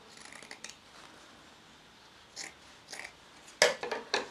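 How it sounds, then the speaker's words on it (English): Scissors trim excess fabric from a sewn sleeve, giving several sharp, close snips spaced irregularly with quiet rustling between them. "So now I'm going to cut this excess off."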